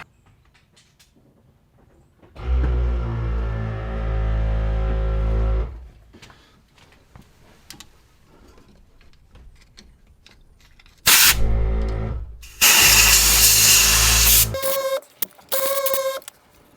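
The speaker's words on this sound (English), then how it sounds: "I might actually just put a little bit of compressed air in there just to get all the gunk out." Compressed air blows gunk out of an STI control arm during an upgrade on a 2012 Subaru Forester XT S-edition: several loud bursts of air, one sustained hiss, then short sharp blasts, with quiet workshop noise in the gaps.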